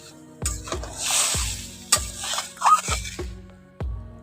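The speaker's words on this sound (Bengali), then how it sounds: "জলটা দিয়ে ভালো করে একটু নাড়াচাড়া করে নিচ্ছি" Fried tomato is stirred in a pan just after water is poured in, for a tangy small-fish curry: a bubbling sizzle under regular, loud spoon knocks against the pan, several in a row.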